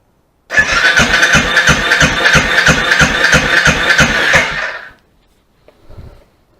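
A 2018 Royal Enfield Gun Metal Grey motorcycle engine with a faulty decompressor, throttle held wide open, gives loud, evenly spaced chugging pulses for about four seconds, then cuts off, leaving a faint rumble.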